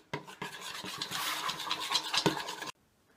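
Scraping, swishing stirring of a watery glue and food colour slime mixture in a container, starting with a few sharp taps and then brisk continuous strokes close up, before stopping abruptly.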